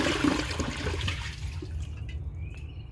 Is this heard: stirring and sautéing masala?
no